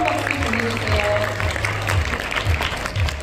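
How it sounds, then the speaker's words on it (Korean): A forum audience gives sustained applause, a dense wash of clapping that continues evenly for several seconds with a voice faintly beneath it. "여러분 다시 한번 뜨거운 박수 보내주세요."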